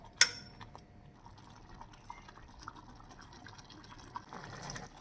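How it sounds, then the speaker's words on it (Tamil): A pot of lentil and spinach curry bubbles steadily at a low, soft simmer with occasional small pops and clinks, quiet and close. "ஒரு 3-4 நிமிஷம் போல் நல்லா கொதிக்கட்டும்"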